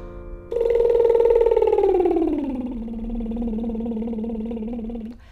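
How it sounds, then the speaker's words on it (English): A singer's lip trill as a vocal exercise, a buzzing, fluttering voiced tone that glides smoothly down about an octave from a higher pitch to a lower one, then holds steady, close and alone. "apply it to a vocal exercise where I'm sliding down an octave"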